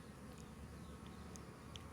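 Honey bees from a hive of honey-producing bees hum in a steady, low drone that fills the whole moment, with a few brighter buzzes from individual bees passing close; no one speaks.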